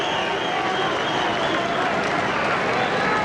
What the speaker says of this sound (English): Hernandez going around, getting a round of applause from the fans.